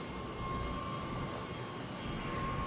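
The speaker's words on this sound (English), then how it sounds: "That sound right there is the air system filling up." Air system filling up on a truck trailer: a steady, even hiss and rushing roar with a faint thin tone running through it, continuous and moderately quiet.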